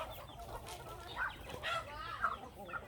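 Chickens cluck close by in a rural Thai home yard in the evening, with short, irregular clucks from several birds that overlap one another.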